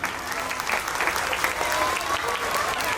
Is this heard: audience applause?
yes